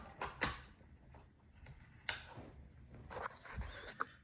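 Sigma 35mm lens being fitted onto a camera dock, quiet close handling with several small clicks and sharp mechanical snaps scattered through faint background rustle.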